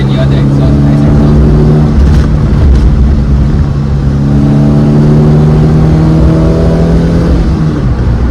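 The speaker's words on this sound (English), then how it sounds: "Hope you all can hear the exhaust. Nice exhaust." A Suzuki Zen car exhaust rumbles loud and close as the engine revs up and settles, with a voice talking over it.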